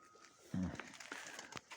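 Mykolaiv pigeons coo nearby, a low throaty coo rising briefly amid rustling and faint background noise.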